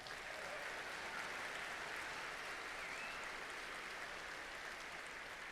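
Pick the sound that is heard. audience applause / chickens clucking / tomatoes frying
audience applause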